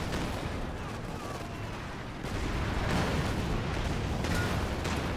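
Mortar and artillery fire in Company of Heroes 2, a dense rumble of repeated impacts and blasts during a 4v4 match on the Road to Arnhem map, with a caster talking over it.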